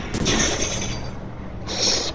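A car crashes in a Roblox driving game, giving two harsh, glassy smashing bursts, the first near the start and a second toward the end, over a steady background of game noise.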